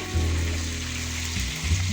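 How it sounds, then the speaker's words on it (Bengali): Fish frying in hot oil during a home cooking festival, a steady close sizzle with a low hum beneath it over about two seconds. "একটা মাছ ভাজা শুরু হয়ে গেছে"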